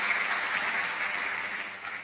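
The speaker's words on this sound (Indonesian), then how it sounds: "Tepuk tangan dulu." Congregation clapping at a church sermon, a steady dense wash of applause lasting the full two seconds at moderate level with no voices over it.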